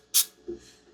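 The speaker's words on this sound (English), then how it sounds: "Now I'm going to spray the activator on this off camera." A short, sharp hiss burst from spraying glue activator during billboard assembly, followed by a faint lower thud, close and brief with no talk.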